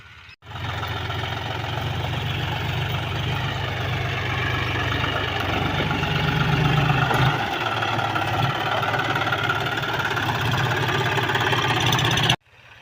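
A tractor engine runs steadily at night while sowing peanuts, a loud, close, constant mechanical drone that starts abruptly and holds evenly for about twelve seconds before cutting off.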